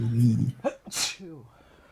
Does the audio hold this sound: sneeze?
yes